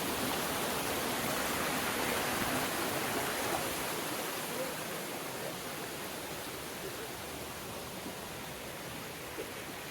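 A stream flows across a forest footpath near Galapitagala in Sri Lanka. The rushing water is loud, close and continuous, a steady hiss that holds unchanged for the full stretch.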